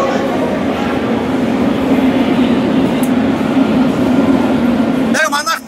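A Moscow metro train runs with a loud, steady rumble and roar, close and continuous, ending in a short squeal or rattle as it slows.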